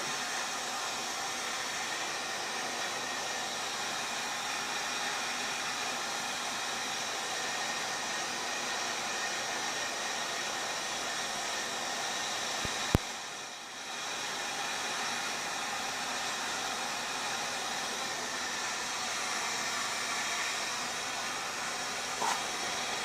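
A heat gun blows a constant loud, steady hiss while heating a plexiglass sheet for bending into a window bird feeder, unbroken except for one sharp click and a brief dip midway.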